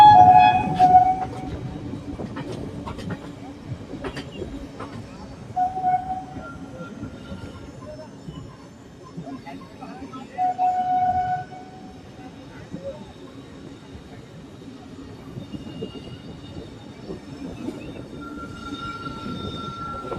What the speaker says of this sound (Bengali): হলদিবানি ছেড়ে ট্রেন আস্তে আস্তে এগিয়ে চলেছে।